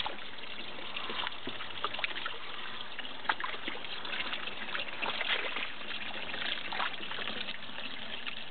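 Water gently agitated by rainbow trout in an aquaponics tank, a soft continuous trickling and bubbling like simmering water, steady and close with small splashy ticks and no talk.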